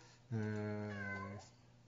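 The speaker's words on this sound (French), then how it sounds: "Donc Stéphie, il y a un chat qui passe, qui te dit bonjour." A cat passing through a room lets out a single clear, drawn-out meow lasting about a second, close and alone against quiet background.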